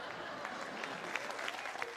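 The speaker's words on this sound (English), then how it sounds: "Clapping, laughing, having a good time." Crowd applause, a steady patter of many hands clapping with scattered brighter claps, fairly faint and continuous throughout, with no speech over it.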